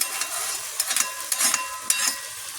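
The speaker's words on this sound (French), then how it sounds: "je vais ajouter de l'eau" Water poured into a hot cooking pot while making okra and tomato fish sauce for couscous, giving a steady hiss with bursts of sizzling and bubbling, close and moderately loud, no talking.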